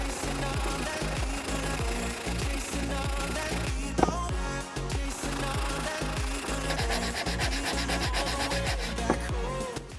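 Wooden steps for a sailboat mast being sanded by hand, steady rhythmic rubbing strokes close up, repeating continuously without speech.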